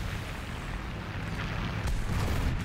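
Heavy artillery explosions boom in a War Thunder tank battle, a dense continuous rumble of blasts with a louder surge near the end, no talking over it.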